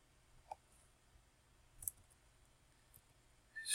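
A computer mouse gives a few faint, sparse clicks in a quiet room, with a sharper click near the end.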